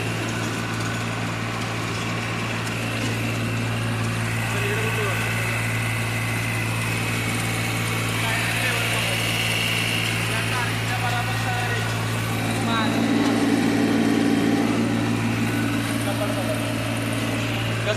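A New Holland tractor engine runs steadily at a constant idle-like drone throughout, with a low hum holding under occasional voices and a brief swell in loudness near the end.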